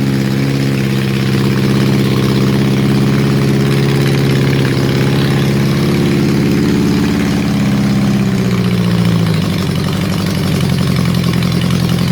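A Honda CB750 motorcycle engine running on a restoration bench with a suspected vacuum leak, a loud, steady idle with a strong low rumble that shifts pitch slightly toward the end, no talking.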